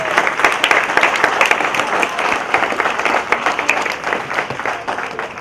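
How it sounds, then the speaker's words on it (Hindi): A large audience at a Samkit Group pathshala felicitation ceremony in Bangalore claps loudly and continuously, dense crackling applause that fills the hall with small surges, close and sustained. "तो इनकी जोरदार तालियों के साथ"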